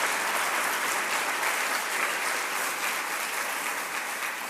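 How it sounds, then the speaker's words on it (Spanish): A church congregation claps in dense, sustained applause, loud and even throughout, with no voices standing out above it. "Regálale un aplauso al Señor tu Dios porque te ama con todo su corazón."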